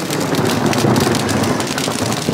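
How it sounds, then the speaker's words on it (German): Heavy rain pours steadily and close by during a thunderstorm, a dense continuous hiss and patter that stays loud throughout with no talk. "Jetzt muss ich den Regen abwarten."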